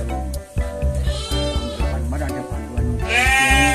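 Merino sheep bleat repeatedly at a farm in Dieng, Banjarnegara, calling in overlapping bursts that come close and loud, with a voice talking faintly underneath.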